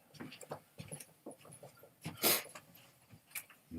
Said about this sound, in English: You and your little mangy dog.